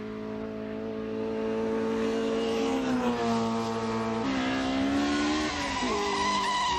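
Mercedes race car lapping the Nürburgring Nordschleife in an endurance race: loud, high engine whine rising and falling through gear changes as cars pass close by, with a steady roar underneath and no talking.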